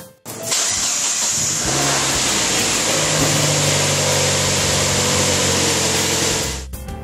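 A car engine cranks and fires, then settles into a steady rumbling idle, loud and close with no voices.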